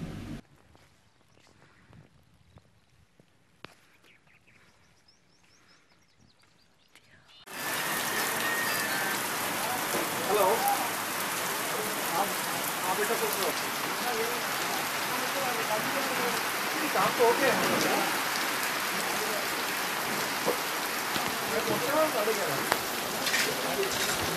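Heavy rain comes on abruptly after a quiet stretch, then keeps pouring steadily as a loud, dense hiss of drops hitting surfaces outdoors.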